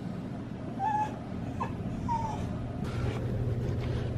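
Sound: dog scratching and whimpering at a door

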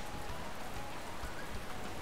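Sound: pouring rain in Pokémon Alpha Sapphire video game

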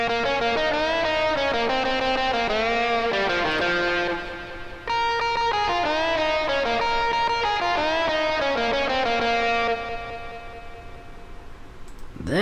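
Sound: music with VST echo effect applied in OpenMPT

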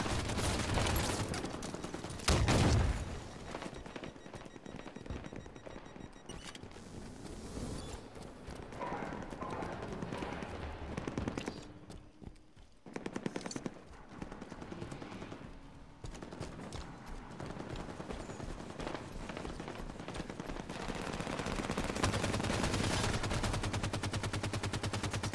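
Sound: gunfire in Halo 5 Warzone video game

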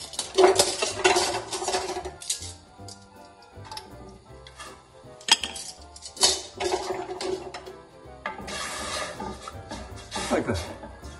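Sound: stirring a hot pot with a wooden spoon

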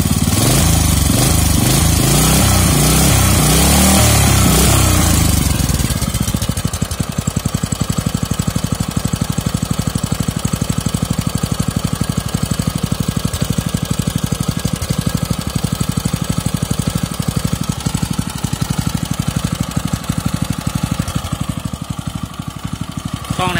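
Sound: Kubota GS150 engine running

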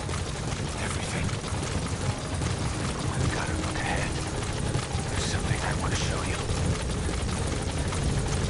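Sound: helicopter arriving in Metal Gear Solid V video game

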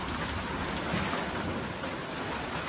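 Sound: heavy rain during Kerala floods

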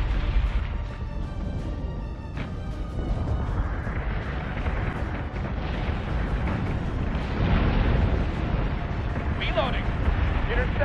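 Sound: warship weapons firing in the video game Battlestar Galactica Deadlock

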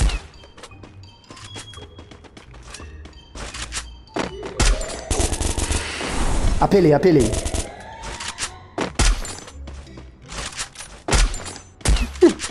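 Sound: gunfire in a shooter video game

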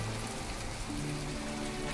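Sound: rain falling in video game My Time at Portia

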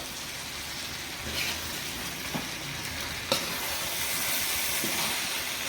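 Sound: chili powder and garlic frying in oil

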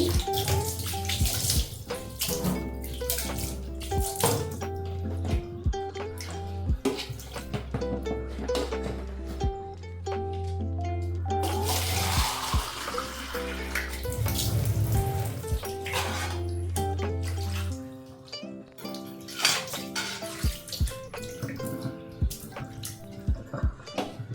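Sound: water running from tap while washing tap

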